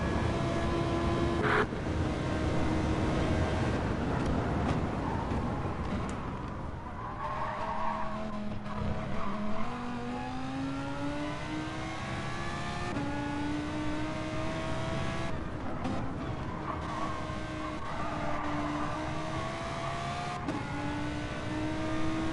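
A GT3 race car laps Monza in a racing video game, heard from onboard: a continuous engine note rising and falling through gear changes, with tire squeal under braking through corners, loud and steady with no talk.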